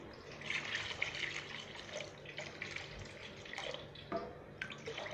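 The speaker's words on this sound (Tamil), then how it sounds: "தேவையான அளவு தண்ணி ஊற்றுங்க." Water is poured into a pot of fish curry made with chilli powder and tamarind water, a steady splashing trickle with faint drips, close by and alone without speech.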